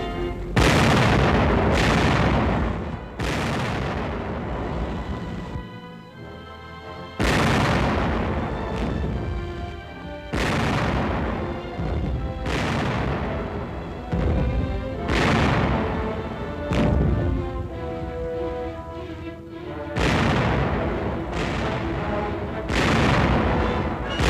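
Tank guns firing directly in combat to clear obstacles for infantry: a series of heavy booming blasts, each followed by a rolling rumble, spaced a few seconds apart over continuous battle noise.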